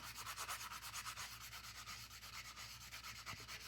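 A 180 grit sanding block rubs back and forth over hammered wire, buffing out hammer marks on wire-wrapped earrings; close, continuous rhythmic scratchy strokes with no talking.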